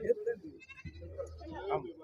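Sheep bleating at a weekly livestock market in Siddipet, Telangana, a few quiet bleats mixed with close-by talk and crowd murmur.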